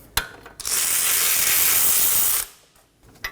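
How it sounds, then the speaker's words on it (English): A ratchet spins out the last brake caliper bolt on a Nissan Maxima during front wheel bearing and hub replacement: a click, then about two seconds of loud continuous ratcheting, then quiet with a final click. "Keep a hand on the caliper during removal of this last bolt so it does not fall."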